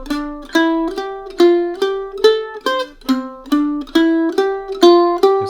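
A mandolin plays an arpeggio exercise with alternate picking at tempo 70, giving a steady run of clear plucked notes that rise and fall in even groups, close and alone.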